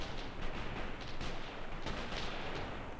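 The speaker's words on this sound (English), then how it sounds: "some machine guns firing off in the distance over there" Distant machine gun fire from a WW2 Eastern Front battle game, heard as a continuous low rumble with faint crackling bursts, without speech.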